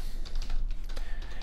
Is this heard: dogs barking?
no